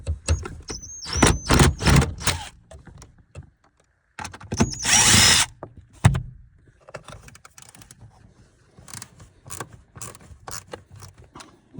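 Screws being removed from a 3rd gen Camaro heater core using a ratchet with long extensions and a universal joint, in close, loud bursts of rapid ratchet clicking separated by quieter pauses with light metallic handling noises.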